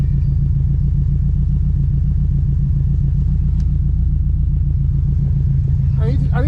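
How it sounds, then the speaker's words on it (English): A Subaru GC8 engine idles while warming up for a head gasket check, a steady, close, loud low rumble with even pulsing throughout, and a brief higher whine near the end. "So what we're doing here is trying to get the engine up to temperature to detect for head gasket issues."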